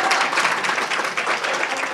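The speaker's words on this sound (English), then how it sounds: "You guys gotta clap, come on." A crowd claps at a celebration honoring a state representative: a dense, steady patter of many hands, fairly loud and close, with faint voices mixed in.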